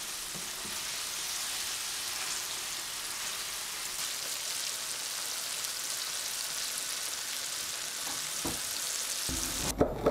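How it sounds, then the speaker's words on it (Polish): Flour-coated fish fries in sunflower oil in a pan, a steady close hiss of bright sizzling that runs unbroken, with a few small clatters near the end. "Jeśli rybę mamy już obtoczoną w mące, ryba ląduje na patelni."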